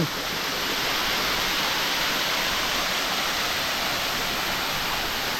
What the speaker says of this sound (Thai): น้ำตกจากธรรมชาติครับ